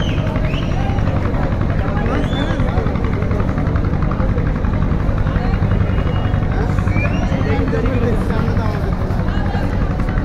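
Passenger launch ships Parabat 12 and Surovi 7 at the Barisal launch ghat after the Eid holiday give off a loud, constant engine drone that fills the scene from start to finish, with voices mixed into the din.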